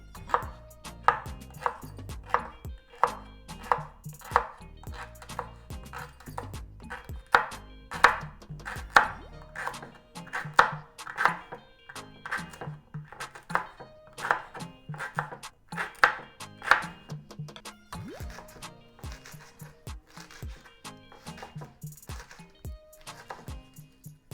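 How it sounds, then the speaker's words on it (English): A knife chops washed callaloo leaves on a board in quick, steady, rhythmic strokes, close and clear, continuing for a long stretch with no talking. "now it's time for me to cut it up"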